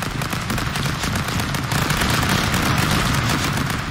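Rapid, continuous gunfire from the video game Stick Fight, a dense loud crackle of shots with no pauses.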